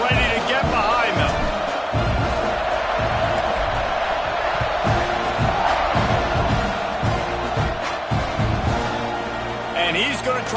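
A college football stadium crowd at a Texas A&M versus Bears game at kickoff, a loud, sustained roar with bursts of cheering and whoops, under an announcer's voice talking throughout.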